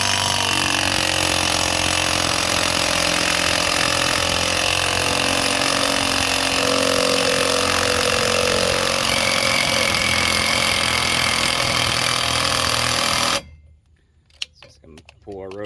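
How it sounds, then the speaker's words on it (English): A loud, steady power tool roars continuously up close as it drives a 14mm bolt into the rear brake of a 2015 Subaru Legacy, then cuts off abruptly near the end, leaving faint rattles. "This is a 14mm. I'm going to drive this in."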